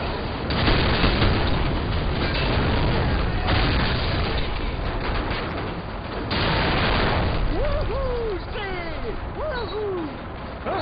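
Gunfire in Call of Duty 4, a dense stretch of shots and booms from the military shooter, with radio-style voices talking near the end.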